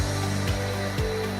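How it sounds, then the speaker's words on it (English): A Roborock Dyad wet-and-dry robot vacuum, just repaired after an Error 5 fault, runs with a loud, steady motor whine and hum. The pitch dips briefly twice. "Vacuum cleaner works like a champ."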